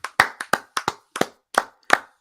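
Sharp hand claps land close and loud in an uneven rhythm, about nine in all, each standing alone with silence between and no voices.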